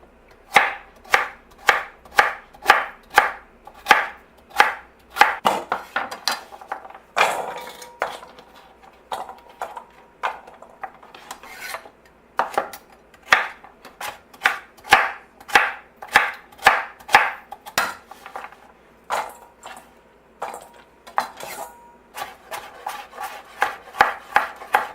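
Knife chopping onion slices on a cutting board for homemade chicken soup, a brisk run of sharp, close, evenly spaced chops with a few brief pauses, no talking.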